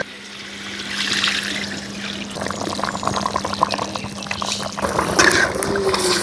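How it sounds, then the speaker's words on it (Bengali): Water pours into a pot of braising duck meat, a steady trickling, splashing stream that runs for several seconds at close range, with no talk. "গোস্তটা কষান্য হয়ে গেছে এবার পানি দিয়ে দেব"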